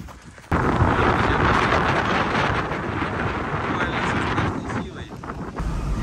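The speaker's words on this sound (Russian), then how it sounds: "Ветер какой жуткий задувает." Strong wind roars and buffets the microphone in a loud, continuous rush that starts abruptly and eases slightly toward the end.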